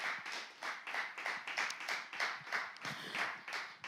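Audience at a children's reading contest clapping in unison, a quick, regular rhythm of crisp claps, about three per second, moderately distant and steady for several seconds.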